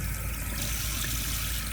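Running water from a tap rinsing shampoo out of hair, a steady close splash and rush of water that stays even throughout, with no voices.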